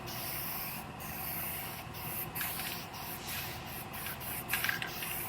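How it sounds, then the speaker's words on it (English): Guide coat is sprayed over a primed Ford F150 body panel, giving a soft, steady hiss broken by faint repeated clicks and short spray bursts, recorded close and quiet, with no talk. "Now I'm gonna put one more coat of guide coat over all the primed area"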